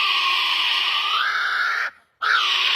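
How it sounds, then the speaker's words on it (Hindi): A kiwi bird gives a loud, shrill, sustained cry that wavers slightly, breaks off briefly, then resumes, heard up close without talk. "कीवी तो एक बच्चे की तरह रो रहा है जैसे उसे कोई मार देता है"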